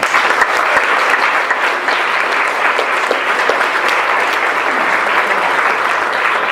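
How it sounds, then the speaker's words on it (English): Loud, sustained audience applause at a speaking event, many hands clapping in a dense continuous wash that stays even from start to finish without speech over it. "So let's give her a round of applause."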